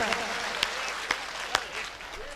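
An audience at a Hindi patriotic poetry recital claps steadily and densely throughout, a full, close burst of applause with a few sharper claps standing out.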